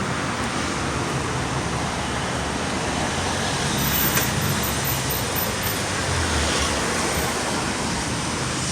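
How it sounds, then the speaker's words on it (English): Steady street traffic noise on a Mexico City road near a curve with no speed bumps, cars and buses passing continuously at moderate distance, a broad even roar with a slight swell midway. "traffic seems to flow up pretty well here because they don't have speed bumps"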